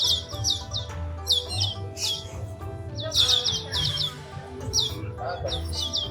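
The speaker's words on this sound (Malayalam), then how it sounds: "കിളികളുടെ സൗണ്ട് മാത്രമേ ഉള്ളൂ" Birds chirp in quick bright bursts and trills around a Chinese temple at sunset, several calls overlapping at moderate distance above a low, steady ambient hum, with a voice talking softly underneath.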